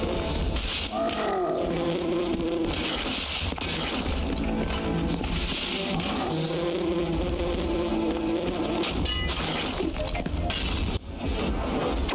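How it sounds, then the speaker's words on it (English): Bees buzzing steadily outdoors throughout, a continuous close insect drone with faint voices and background noise underneath. "Still bees about."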